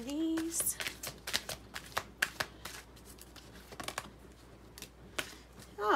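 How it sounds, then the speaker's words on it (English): Diana Cooper's Archangel oracle cards being shuffled and drawn, a run of soft, quick papery slaps and flicks in irregular bursts, close up and fairly quiet. "Let's get one of these cards, Diana Cooper's Archangel cards"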